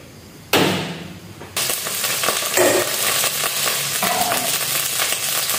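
A little cooking oil heats in a pan for a vegetable dish, breaking into a loud, steady close-up sizzle after a brief hiss, with occasional clinks of utensils.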